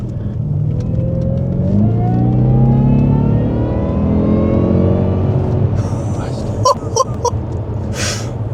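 A Jaguar XJR fitted with a stage 1 intake revs hard up close, its supercharger whine climbing steadily in pitch over a deep engine roar; the revs then drop away and brief voices cut in near the end.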